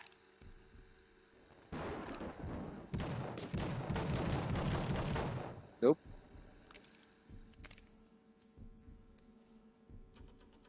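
Gunfire in The Suffering on PS2, a sustained run of shots lasting several seconds followed by a single sharp louder crack, then quieter game ambience.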